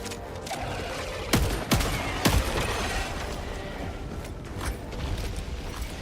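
Gunfire from a shooter video game, with a few sharp shots standing out over a dense, busy game mix of mechanical clatter and background noise.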